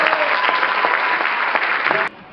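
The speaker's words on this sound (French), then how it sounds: "On peut déjà les applaudir." Loud, dense applause from an audience at a live stand-up comedy show, steady and close for about two seconds before cutting off abruptly.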